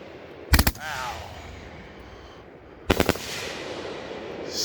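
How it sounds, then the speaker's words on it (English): Consumer fireworks from a Raccoon Fireworks cake, two rapid crackling bursts of sharp pops a couple of seconds apart, moderately close outdoors, with faint crackle trailing off between them. "It's like being in a firework that's just all the way around you."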